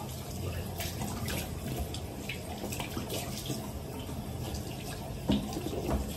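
Tap water running for washing in hot weather, a continuous splashing gush with occasional louder spatters, moderately close, with no voices heard.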